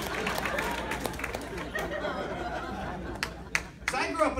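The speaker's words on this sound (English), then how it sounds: "thank you for the late clap" A comedy club crowd at a stand-up show murmurs and chuckles, with a few scattered, late claps breaking out near the end.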